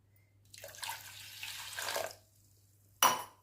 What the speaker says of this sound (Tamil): ஒரு 2 டம்ளர் தண்ணி ஊற்றிக்கிங்க.